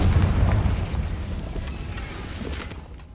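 A Confringo spell blast goes off in Hogwarts Legacy, a loud booming explosion with a low rumbling tail that stays dense and heavy for a few seconds, with game sounds layered over it.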